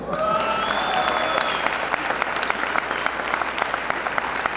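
Audience applause greets former WBC welterweight champion boxer Shawn Porter, a steady burst of many hands clapping with a whistle-like tone rising at the start.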